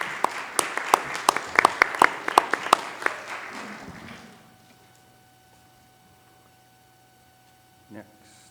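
Applause from the audience at a community services district meeting, a short run of scattered, fairly close claps over a mains hum, fading out to quiet room tone.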